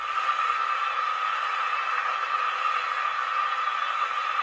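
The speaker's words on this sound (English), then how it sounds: "it's got a few sort of various blower noises." Steam blower noise from the DCC sound decoder of a Hornby Centenary Smokey Joe model steam locomotive, a steady hissing rush that holds even and unbroken for several seconds, with no talking.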